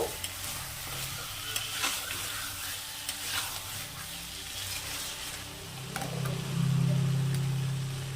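Fried potatoes being stirred into sizzling mutton masala in a pan: a steady frying hiss with intermittent scraping stirs, swelling louder near the end as the ingredients are turned over.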